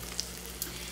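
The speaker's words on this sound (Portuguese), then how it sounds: "Aqui eu tô fervendo uma água" Water boils in a small mug, giving a steady, loud bubbling hiss with faint crackles throughout the short moment.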